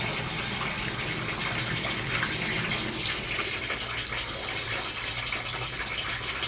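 Water drains steadily from a shallow well pump's pressure tank, making a continuous loud rushing gush that barely changes.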